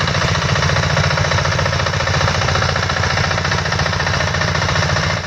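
Garden tractor engine chugging loud and close in the woods, a rapid rhythmic knocking drone held steady throughout while driving through mud.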